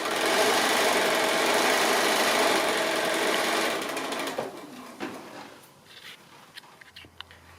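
A sewing machine runs steadily, stitching rows of half-hexagon patchwork together, then stops at about four seconds, leaving a few faint clicks and handling sounds.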